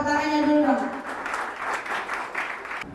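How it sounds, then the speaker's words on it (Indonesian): Audience at a school graduation thanksgiving gathering breaks into applause, a broad wash of clapping rising after a sustained voice at the start and continuing at moderate loudness. "Tepuk tangannya dulu dong."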